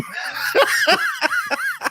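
Honking bird calls, goose-like, repeat five or six times across two seconds, each a loud rising-and-falling nasal blast close to the listener, with short gaps between them.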